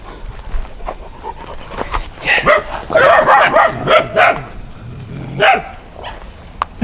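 Several Turkish shepherd dogs of the Avşar line bark repeatedly in a loose, overlapping rhythm on a farm, fairly close and loud, with faint background noise between bursts.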